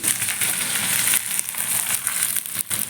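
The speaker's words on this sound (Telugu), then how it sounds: "ఉల్లిపాయ అనేది ఎక్కువ ఫ్రై అవ్వద్దు" Onions for a chutney frying in a pan, giving a steady broadband sizzle and crackle throughout with small dips, no voices.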